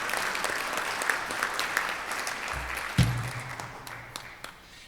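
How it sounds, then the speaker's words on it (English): Members at a Rotary club meeting give a round of applause, a moderate, fairly distant patter of many hands with a brief low thump partway through, tapering off near the end. "Let's give all our Rotarians a round of applause."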